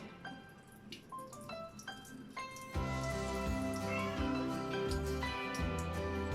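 A cat meows several times at close range, short rising cries in a quiet room, followed by louder clattering and background noise.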